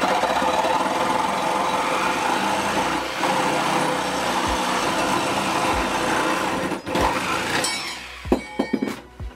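Power tool cutting a piece to 12 inches for a camera slider motion tracking rig, a continuous whirring grind for several seconds, then several sharp clinks and brief bursts as the cut finishes.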